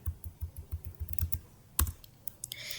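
Fast, close keyboard typing as a salary figure is entered into a program, a rhythmic run of crisp key clicks ending in one sharper keystroke and a brief fading tail.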